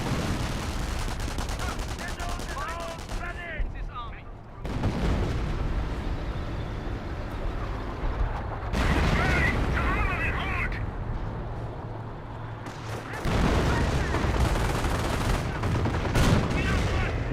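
Gunfire and artillery barrage in Company of Heroes, a dense run of loud bursts, booms and rattling shots in clustered volleys with short lulls between them.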